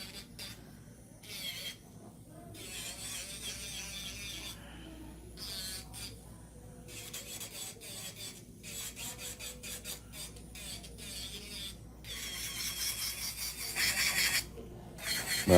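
An electric nail drill with a filing bit grinds acrylic nails in short buzzing bursts of varying length, close and fairly quiet, with a little background noise between passes.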